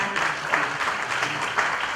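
An audience applauds at a formal commemorative ceremony after an appointment plaque is presented, a short, even burst of many hands clapping with no one speaking over it.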